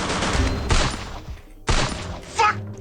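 Bursts of gunfire from the Free Fire battle royale game, three loud volleys about a second apart with a brief lull between them, crisp and close.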